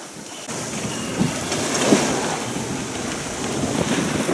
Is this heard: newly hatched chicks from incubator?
no